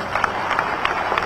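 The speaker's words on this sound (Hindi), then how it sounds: "जोरदार तालियां बजाएं।" A crowd claps steadily and densely at an election road show in Chhindwara, Madhya Pradesh. The applause is loud, continuous and close, with a few sharper claps standing out over a general crowd murmur.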